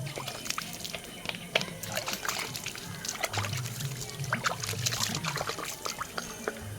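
Water poured over the leaves of potted plants, a soft, faint trickle and splatter that runs on continuously with small drips and rustles.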